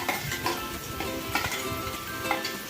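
Ground masala paste sizzles and crackles steadily in a hot pan for crab curry, a close, continuous frying hiss with occasional brighter spurts, probably from stirring.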